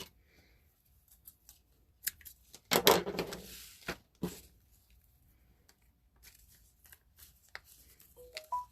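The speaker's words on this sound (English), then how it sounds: "And I'm going to wrap it around, decide how long I want it, and give it a trim." Scissors trimming a length of ribbon give a couple of crisp close snips amid soft handling rustles and otherwise quiet pauses.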